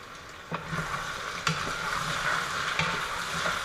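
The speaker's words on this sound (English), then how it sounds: "I just wanted to get the oil, the onions, the garlic kind of warmed up" Oil, onions and garlic sizzle steadily in a pan with a continuous frying hiss, broken by a few brief scraping stirs; no one speaks.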